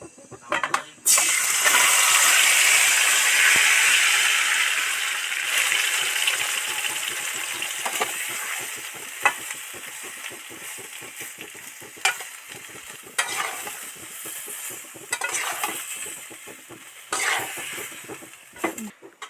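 Marinated cauliflower hits hot oil in a wok with a sudden loud burst of sizzling that slowly fades to a lighter crackle, punctuated by clinks and scraping stirs.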